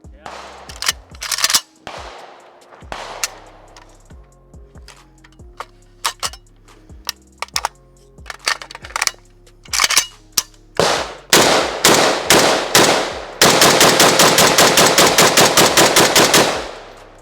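An M70AB2 AK rifle fires a mix of spaced single shots, then a long rapid string of loud, close, sharp reports near the end, with brief voices in between.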